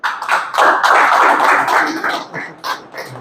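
A crowd claps at a pigeon club prize distribution, a short burst of applause that swells quickly, holds for about two seconds, then trails off into a few scattered final claps.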